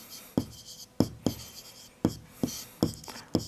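Chalk or marker strokes scratch across a board in a maths class, a series of about nine short, sharp taps and scrapes spaced irregularly, fairly close and moderately quiet, with no talking over them.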